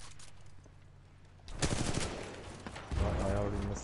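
Sniper rifle shots ring out in Titanfall 2, with two sharp loud reports about a second and a half apart above quieter game background.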